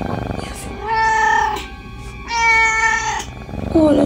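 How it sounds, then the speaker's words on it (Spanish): A neighbour's cat meows twice in long, loud, drawn-out cries near the listener, then a third meow starts at the end, with faint background noise between calls. "Ay, no quiere pasar el gato, Merlín."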